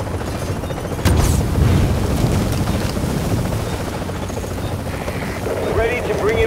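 A helicopter arrives for extraction in Tom Clancy's The Division, its loud rotor rumble steady over a noisy game soundscape with a sharp boom near the start.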